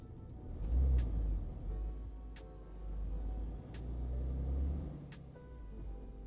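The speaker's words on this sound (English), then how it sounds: "this engine is a bit quiet compared to the one I had in the Iveco" A truck engine idles and revs gently in the driving game Euro Truck Simulator 2, a steady low rumble that swells and eases over several seconds, with a few faint clicks on top and no talk.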